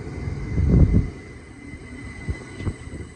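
A Class 375 electric train bound for Margate rumbles past, a heavier swell of wheel and motor noise early on, then fading to a steady hum with a couple of brief clunks.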